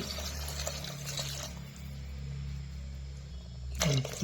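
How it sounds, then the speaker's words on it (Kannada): Water is poured from a glass into raw ration rice in a pot for spinach pulao, a brief splashing pour near the microphone, ending in a short sharp clatter, over a steady low kitchen hum. "ಮೂರು ಗ್ಲಾಸ್ ನೀರು ಹಾಕೊಂಡಿದ್ದೀನಿ"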